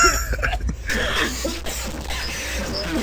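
A loud, heavily distorted cough bursts out at once, harsh and clipped, followed by crackling, noisy rumble that fades somewhat but stays rough and blown out for a few seconds.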